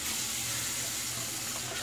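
Cold tap water runs steadily into a bathroom sink for a shave, a continuous close hiss and splash with no voices.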